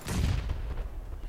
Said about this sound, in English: Bježi, bacit ću bombu, valjda.